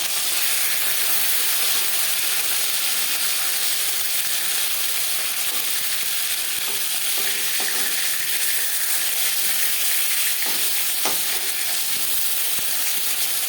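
Pieces of rohu fish shallow-frying in oil, a steady dense sizzle and hiss throughout with a few faint knocks as pieces are turned, no talking.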